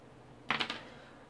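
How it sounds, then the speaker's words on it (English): A Corsair Vengeance K70 mechanical gaming keyboard with Cherry MX Red switches gives a quick cluster of about three soft, close key clicks in otherwise quiet surroundings. "Obviously it's mechanical, so there is going to be a bit of a click, but it's not loud."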